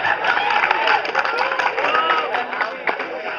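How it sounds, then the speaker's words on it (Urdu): Lecture hall audience applauding a speaker during a talk, a dense sustained patter of many hands clapping close by with a crowd murmur underneath, steady throughout. "آج اگر آپ میری بات پہ تالیاں مار رہے ہیں"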